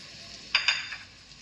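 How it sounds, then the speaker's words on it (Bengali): Chicken bhuna masala being fried in oil with Kashmiri chili powder, giving a steady sizzle with a couple of sharp stirring scrapes close by, with no one speaking. "দিয়ে দিচ্ছি কাশ্মীরি লঙ্কার গুঁড়ো 1 টিস্পুন, দিয়ে আবার কষে নিচ্ছি কিছুক্ষণের জন্য"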